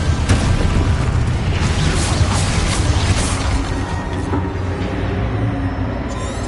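Explosion spells go off in the Hogwarts Legacy video game, a dense, continuous wall of booming blasts and crashing debris that stays loud and close throughout.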